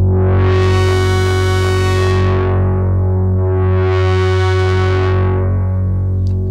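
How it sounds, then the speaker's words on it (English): A Klavis Flexshaper eurorack waveshaper modulates a sine wave with audio, giving a loud, sustained, harmonically rich buzzing tone whose brightness sweeps up and down twice in slow swells. "this is audio modulation, so you can modulate it with audio."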